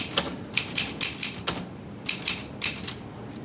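Keys struck on a manual typewriter, a run of about a dozen sharp mechanical clacks in an uneven rhythm with a short pause midway, close and clear with no talking.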